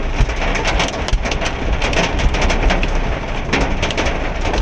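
Heavy rain mixed with hail pelts down steadily in Kanpur, a dense continuous hiss with scattered sharper taps from stones striking hard surfaces nearby, loud throughout with no talking.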